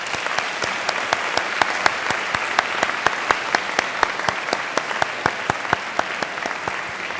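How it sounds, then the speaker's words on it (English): A graduation audience applauds families and friends at a university ceremony. The clapping is steady and moderately loud, a dense crowd patter with sharp individual claps standing out, continuing throughout without speech. "I invite you to give them a hearty round of applause"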